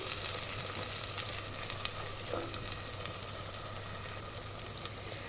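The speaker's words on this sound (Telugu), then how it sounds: "వన్ టేబుల్ స్పూన్ అల్లం వెల్లుల్లి పేస్ట్ వేసుకోవాలి వేసిన తర్వాత బాగా ఫ్రై చేయాలి" Ginger garlic paste fries in a pan for mutton curry, a soft, steady sizzle with faint crackles and a few small pops, heard alone at low volume.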